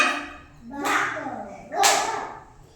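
Children in an anganwadi class give a child two short bursts of group clapping about a second apart, mixed with young voices in a small room.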